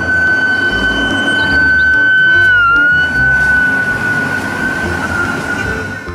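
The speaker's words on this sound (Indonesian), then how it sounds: "lihat teman-teman, ada truk pemadam kebakaran." Electronic siren of a toy fire truck, a loud, steady high-pitched wail that dips briefly in pitch midway and then holds, close to the microphone and sounding alone.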